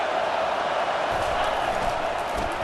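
A stadium crowd roars steadily during a Michigan versus Oregon college football game on a big third down, a dense, sustained wall of cheering with a commentator talking over it.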